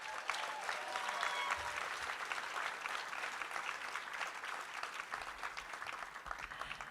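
Audience at the 2019 Wilma W2W awards ceremony clapping steadily for several seconds, a dense, even wash of many hands that fills the room with no voices over it.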